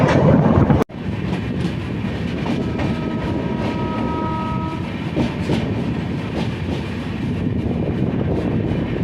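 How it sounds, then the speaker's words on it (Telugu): Freight train passing on the line near Anakapalli with continuous loud wagon rumble and rhythmic clickety-clack, briefly cut by a sharp break at the start and a thin whining tone midway. "ఇది కూడా ఒక ఫ్రైట్ ట్రైన్."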